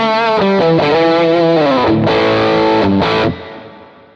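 Electric guitar through a Matchless amp model on a Quad Cortex, loud and overdriven, playing a short melodic phrase of sustained notes that ends with a fading ring.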